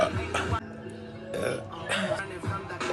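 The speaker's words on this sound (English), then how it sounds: "I need a burp." A woman burps loudly in a long, drawn-out belch, followed by a burst of talking and laughing close to the microphone.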